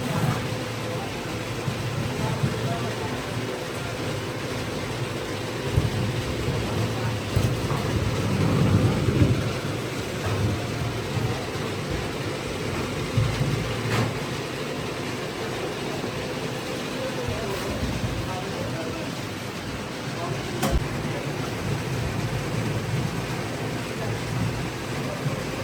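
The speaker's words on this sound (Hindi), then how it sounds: "क्योंकि बारिश हो रही है" Steady rain falls in the Himalayan hills of India during the monsoon, a dense continuous hiss with low rumbles of thunder rolling underneath, loud and close with no voices.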